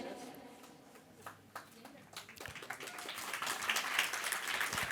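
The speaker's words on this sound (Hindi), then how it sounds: "आप लोग इतनी कम तालियां बजाएंगे" A crowd applauds at an award ceremony. Scattered claps start sparse and grow into fuller, denser clapping toward the end, with faint voices mixed in.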